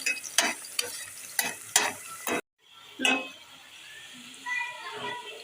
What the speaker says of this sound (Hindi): हमने लिया आधा कप तेल, उसमें हम डालेंगे प्याज। प्याज को हम करेंगे हल्का ब्राउन।